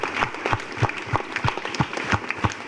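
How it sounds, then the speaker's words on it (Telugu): Applause from a school audience at an anti-drug awareness event, steady clapping from many hands in a fairly close, even rhythm throughout, with no talk over it. "ఒకసారి చప్పట్లతో ఆనందిద్దామా?"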